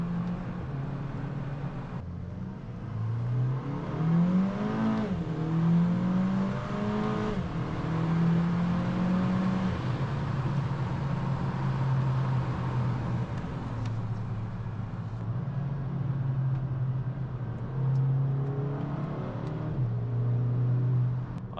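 A VW Golf Mk5 GTI with DSG gearbox revs and accelerates steadily on a road, its pitch climbing and dropping through gear changes, loud and close throughout with no talking.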